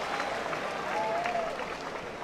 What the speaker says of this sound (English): He wants the crowd involved.